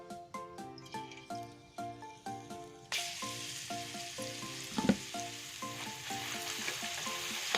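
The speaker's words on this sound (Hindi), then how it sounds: "घी को मैंने चूल्हे पे चढ़ा दिया है। अब इसमें हम ये लहसुन डालेंगे" Garlic dropped into hot ghee on a stovetop pan sets off a loud, steady sizzle partway through that keeps going to the end, with rhythmic background music playing throughout.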